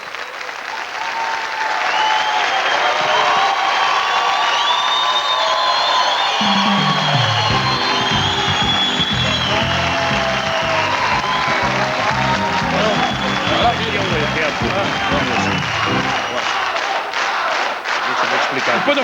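A television studio audience on a Brazilian Sunday variety show gives a standing ovation, loud sustained clapping with cheers and whoops, while a voice and music run underneath through the middle stretch.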